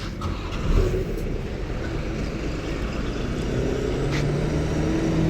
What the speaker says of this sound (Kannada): ಶಿವಮೊಗ್ಗ ಬ್ಲ್ಯಾಕ್ ಬೋರ್ಡ್ ಗಾಡಿ ಹೋಗ್ತಾ ಇದೆ